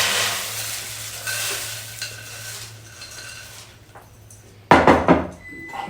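Corn stirred into a pot of chicken soup, a hissy steady background that fades, then a sudden loud burst of scraping and clunking from a spoon against the pot near the end.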